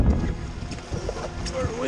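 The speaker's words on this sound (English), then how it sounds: "Very windy." Gusty wind buffets the microphone aboard a small sailboat on a winter sailing trip in Norway, a steady loud rushing roar with water and boat noise mixed in.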